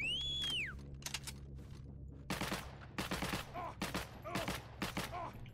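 Repeated rifle and automatic gunfire in the World War II shooter Heroes and Generals, several sharp bursts in quick succession after a brief whistling effect, fairly close with short pauses between shots.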